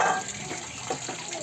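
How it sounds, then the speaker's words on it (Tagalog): Water runs at a sink while a small child washes dishes, making a soft, steady splashing hiss with faint clinks, close and fairly quiet throughout. "Aba, naglilinis ng pinggan si Mamot."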